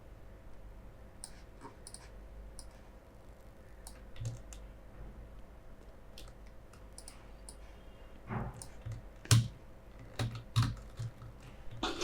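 Code being typed on a computer keyboard, with scattered quiet key clicks that quicken into louder bursts toward the end.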